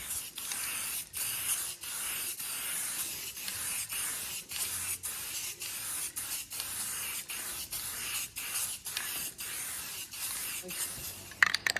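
A spray paint rattle can lays olive drab green onto the roof of a GMC CCKW truck, hissing in a steady series of short, evenly spaced bursts with brief pauses between each pass, close and continuous.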